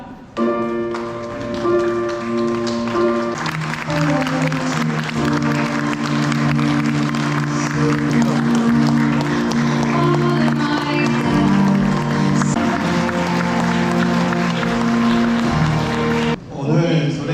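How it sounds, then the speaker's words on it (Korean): Wedding guests applaud as the bride enters the hall, steady clapping under loud music with sustained tones, running throughout before dropping off near the end. "아낌없는 박수로 맞이해 주시기 바랍니다. 신부 입장!"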